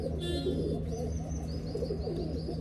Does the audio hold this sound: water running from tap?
no